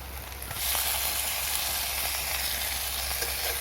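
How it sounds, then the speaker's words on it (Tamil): Tomatoes dropped onto ginger and garlic sautéing for a country-chicken intestine curry: the frying swells into a loud, dense hiss after half a second and holds steady, close and without talk. "இஞ்சி பூண்டு வதக்கிடுச்சு. நான் இப்போ தக்காளி சேர்த்துக்க போகிறேன்."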